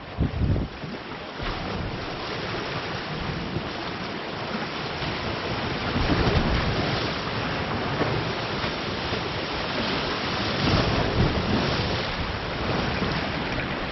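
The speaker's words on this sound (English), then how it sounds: "Ooh, it's splashing pretty good further up here." Sea waves splash and wash against the shore at Hornsea, a steady broadband roar of surf heavily buffeted by wind on the microphone, continuous for the whole stretch with slight swells in loudness and no voices.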